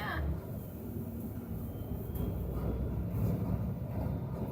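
A train rumbles past at a distance, a low steady roar heard under people chatting nearby.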